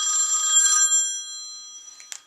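A telephone rings in a scene from the TV drama Scandal, a bright electronic ring that sustains and then fades, followed by a brief click near the end.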